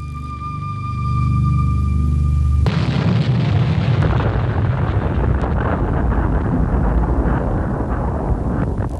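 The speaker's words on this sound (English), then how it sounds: "That explosion wave swept up the hill and totally obliterated every house" Huge TNT explosion: a sudden blast breaks in after a few seconds of quiet tones, then becomes a loud, sustained roaring rumble with wind buffeting the microphone.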